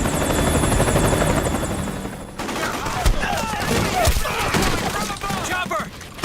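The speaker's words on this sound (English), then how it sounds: "Chopper!" Helicopter rotor thrum from the Metal Gear Solid 4 video game, a loud continuous chop under bursts of gunfire, with a voice breaking in partway through.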